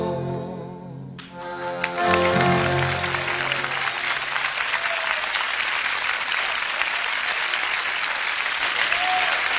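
Sustained studio audience applause rings out after a short musical ending, loud and steady across the whole stretch, at the Philips studios on a folk music radio programme.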